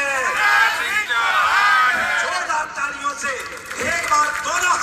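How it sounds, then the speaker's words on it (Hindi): A crowd at a political election rally cheers, whoops and applauds loudly and continuously, with shouts rising and falling and a burst of louder cheering near the end. "जोरदार तालियों से एक बार दोनों हाथ खड़े कर"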